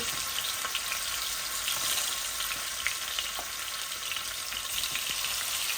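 Oil fries in a pan as the first step of cooking fish heads into a satkara bhuna, a dense, continuous sizzle with faint stirring clicks, close and steady, with no voices.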